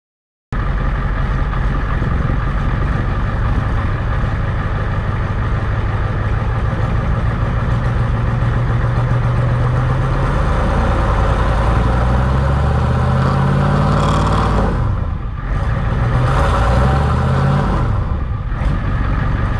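A 1990 Ford F-350 with an IDI diesel runs steadily after starting, a loud close rattling clatter with low rumble, rising revs mid-way and a couple of brief dips later.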